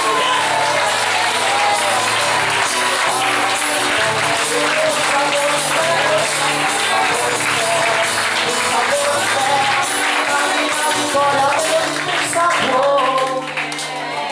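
Church congregation applauding and cheering, continuous dense clapping and crowd noise over a steady musical backdrop, loud and sustained throughout before easing slightly at the very end.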